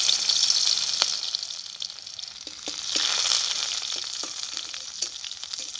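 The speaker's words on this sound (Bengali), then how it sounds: "রসুনটাকে একটু ভেজে নেব।" Garlic cloves for a spinach and fish curry sizzle steadily in hot oil with a bright, continuous crackle and a few sharp pops, close and loud throughout with no voices.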